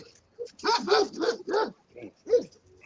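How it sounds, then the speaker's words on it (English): A big dog barking several times in a quick burst, then a pause and one more bark, fairly close and clear with little else around. "Sound like a big ass dog."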